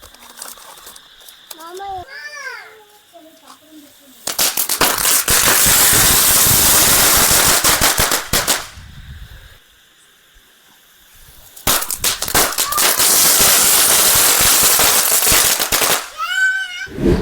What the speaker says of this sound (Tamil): ஸோ அடுத்து பார்த்தோம்னா ஜங்கிள் பீட்னு சொல்லிட்டு யானை வெடிங்க.